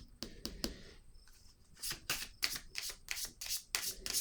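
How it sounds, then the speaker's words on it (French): Cards are handled and laid on a table in a series of crisp, close slaps and flicks, with a few scattered at first and then a quicker run toward the end. "Je vais déposer une autre carte."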